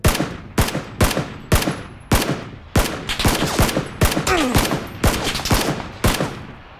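Rapid gunfire in the battle-royale shooter PlayerUnknown's Battlegrounds, with a dense string of sharp, loud shots in irregular bursts. Some shots come in quick doublets, and each crack leaves a short ringing tail.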